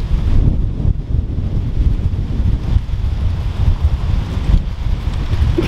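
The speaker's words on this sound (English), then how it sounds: "Blowing a gale." Strong gale-force wind buffeting an outdoor microphone on a London day trip, a loud continuous roar of rumbling gusts with no talking.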